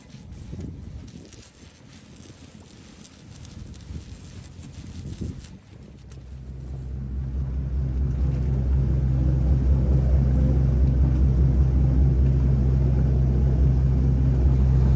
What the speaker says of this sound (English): If you want to fire up the motor, we can start heading out.